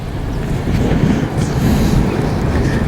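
A strong, cold December wind blows at Lam Takhong dam during lift-net fishing, a loud, constant roar of buffeting rushing against the microphone that swells slightly and never lets up.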